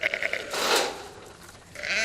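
A sheep bleats close by, with a long wavering bleat in the middle and shorter calls around it, alone without talk.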